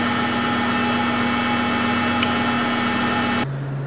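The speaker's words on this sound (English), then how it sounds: "we're placing it into the meat grinder where it is being churned up and turned into the ground pork meat" An electric meat grinder runs steadily, churning cut-up pork into ground sausage meat, giving a loud, even motor hum with a constant tone that drops lower near the end, and no speech.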